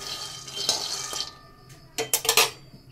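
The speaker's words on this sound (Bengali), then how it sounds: "শুকনো কড়াইতেই বাদামটা ভেজে নিচ্ছি" Peanuts being dry-roasted in a wok, with a rattling scrape early on, then quieter, then a quick run of loud clattering knocks as the nuts are stirred against the metal.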